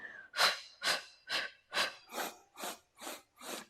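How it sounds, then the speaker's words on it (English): Rhythmic breathing during the Pilates hundreds exercise on a reformer, eight close, evenly spaced breathy puffs of air about half a second apart, heard alone. "I like to do my hundreds breathing here"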